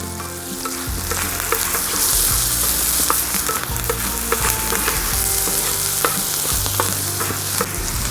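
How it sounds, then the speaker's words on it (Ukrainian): Shakshuka vegetables frying in a pan over a campfire outdoors, a loud, close, constant sizzle broken by repeated scrapes and knocks of a utensil stirring through the pan. "І тепер все добре разом перемішуємо"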